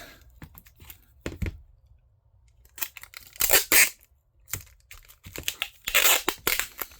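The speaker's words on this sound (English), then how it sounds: "This is what scissors are for." Sharp snipping and tearing bursts from scissors cutting tape, irregular and close, with crinkly rustling between cuts and short quiet gaps.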